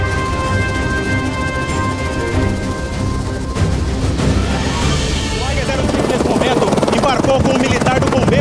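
A CIOPAER police rescue helicopter, AG-05, drones loudly and steadily close by during a forest-area rescue, its rotor and engine noise filling the whole stretch with no voices.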